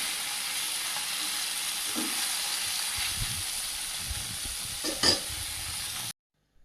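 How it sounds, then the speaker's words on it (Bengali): Pieces of fish frying in a pan give a steady, close sizzle and hiss, with a few soft clatters from turning the fish, before the sound stops abruptly. "মাছটা এক পিস করে ভাজা হয়ে গেছে আর একটু দুলতে দেবো"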